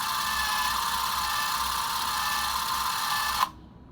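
A Bell and Howell 308 AutoLoad Super 8 camera motor whirs steadily for a few seconds, then stops abruptly with a faint click, leaving near silence.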